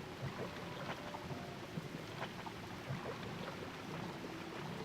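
Rain falls steadily in a soft, even wash with faint scattered drops and patters, moderately distant and quiet, with no voices.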